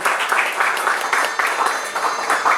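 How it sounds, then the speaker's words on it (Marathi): An audience at a book launch applauds after the ceremonial lamp lighting. The clapping is dense and continuous, fairly loud throughout, with a faint murmur of voices beneath it. "आपल्या सगळ्या रसिक श्रोत्यांच्या टाळ्यांचा कडकडाट असाच होत राहतो"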